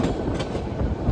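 A train on an Alaska cruise trip rumbles along the rails up close, a dense rolling roar with faint clicking beats.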